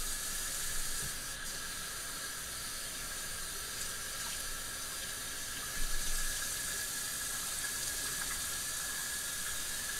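Hot water runs from a bathroom sink faucet in a steady hissing stream, close and continuous with a slight splash midway, no talk.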